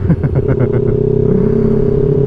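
A Kawasaki Z650 motorcycle engine drones steadily while riding, recorded close from the rider's position. A brief rhythmic pulsing at the start settles into a loud, even hum, with no talk.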